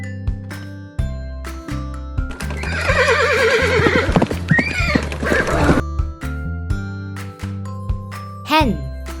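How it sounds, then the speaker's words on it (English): A horse neighs loudly in a long, wavering whinny, with clip-clopping hooves and light jingling around it and a short second whinny near the end, set against a playful musical backing. "horse."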